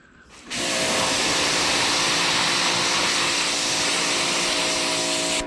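A pressure washer sprays a Ford Galaxie car, bursting on after a brief quiet moment into a loud, steady, close hissing roar that holds without a break.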